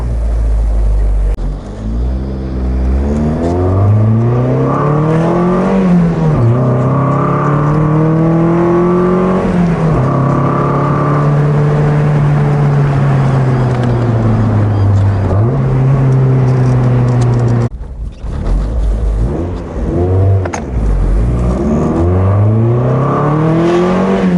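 A car engine with a modified exhaust revs loudly through rising gears, its throaty exhaust climbing and dropping in long sweeps with brief pauses between shifts.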